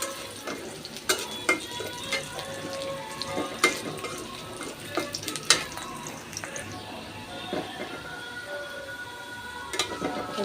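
Onions, bay leaves, cinnamon and cardamom fry quietly in a pan, a faint sizzle broken by intermittent clinks and scrapes of a stirring spoon against the metal.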